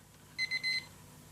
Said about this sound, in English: Okay, there's the timer.